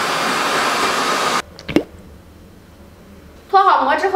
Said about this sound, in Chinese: 好家伙，吹风机都用上了。